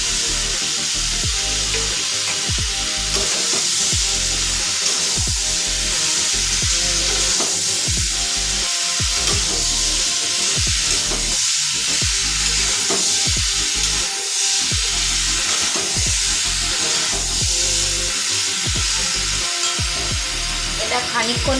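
Small chicken pieces fry in a pan for a stew, sizzling steadily and close, with repeated scraping knocks of stirring throughout.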